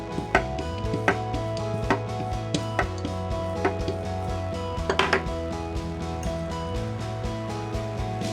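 A knife makes light slits in soft apple cookie dough, giving a series of soft, evenly spaced taps on a board, with a quick cluster near the end, under gentle background music.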